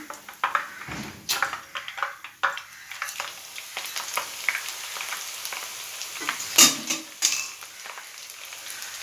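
A mixture snack fries in hot oil in a pan, with a steady sizzle broken by frequent clinks and scrapes of a spoon stirring and turning the pieces, close and fairly loud.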